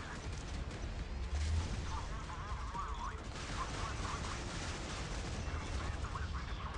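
Rocket launcher fire in the naval combat game Modern Warships comes as a dense rumbling barrage of booms and crackling blasts that continues throughout the clip.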